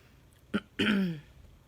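A woman with a cold clears her throat with a quick short rasp, then a longer, rougher hack, close and alone against a quiet room.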